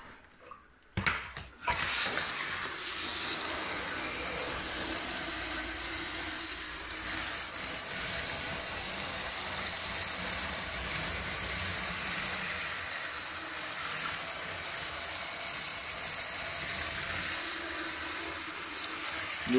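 Tap water runs steadily into a bathtub and splashes onto a plastic storage box in a waterproofing test, a close, continuous hissing rush that begins after a few brief knocks.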